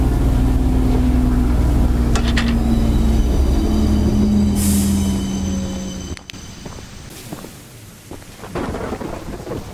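Loud, rumbling locomotive noise from the train in the horror game Choo Choo Charles, with a long steady horn-like drone and heavy clattering that eases after about six seconds, continuing more roughly to the end.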